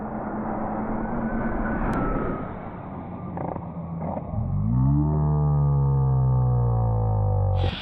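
A high-speed RC car making a full-throttle speed run, aiming to top 147 km/h, its motor rising into a loud, climbing whine that holds near and strong after an earlier rougher passage.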